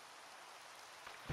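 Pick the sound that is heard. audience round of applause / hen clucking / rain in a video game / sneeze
rain in a video game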